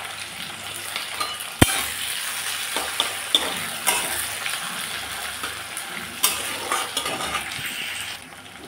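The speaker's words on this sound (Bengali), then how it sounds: "দিয়ে দিচ্ছি গরম তেলের উপরে কালো জিরা ফোড়ন, পেঁয়াজ" Sliced onion and nigella seeds frying in hot oil in a home kitchen, giving a steady close sizzle broken by a few sharp clinks of a spoon stirring against the pan.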